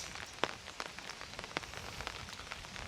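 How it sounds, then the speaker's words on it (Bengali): Light village rain patters softly on a surface, scattered drops tapping irregularly over a faint, steady hiss, with no voices. "তবে গতকাল থেকে হালকা হালকা বৃষ্টি হচ্ছে।"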